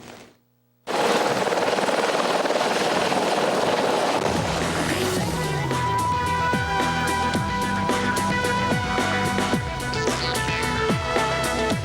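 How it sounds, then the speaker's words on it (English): A news helicopter flying, heard from inside the cockpit: a loud, steady rotor and turbine roar runs without a break after a short quiet opening, with a rhythmic blade chop throughout. "A helicopter pilot takes us inside the cockpit for a most extraordinary ride."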